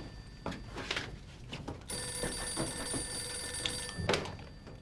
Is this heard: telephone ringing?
yes